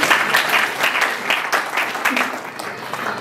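Applause from an audience at a memorial gathering, steady clapping that begins strong and gradually eases, with a few voices faintly mixed in.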